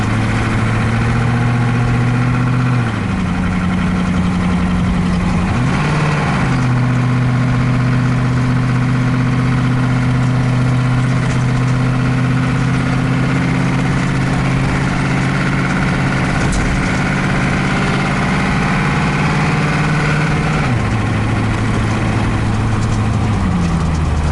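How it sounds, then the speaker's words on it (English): A diesel van engine idles loudly and steadily up close, its low rumbling drone holding mostly even with a couple of brief shifts in pitch and no talking. "So it's not a bad engine."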